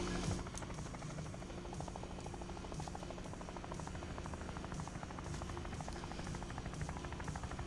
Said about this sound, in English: if you've never used a helicopter before, you can do over the shoulder lift too